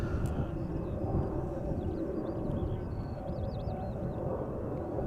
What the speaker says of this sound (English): Air Baltic taking off, passing us by